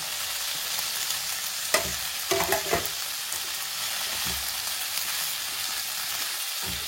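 Tofu and sliced leek flowers stir-fry in a hot pan, giving a continuous close sizzle with a few sharper clatters of the spatula scraping and turning the food, and no talk.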